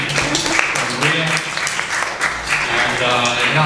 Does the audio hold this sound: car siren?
no